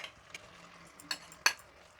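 Cooked prawns gently mixed into rice pulao in a pan, heard as soft close scraping and stirring with a few sharp utensil clinks against the pot, quiet and alone.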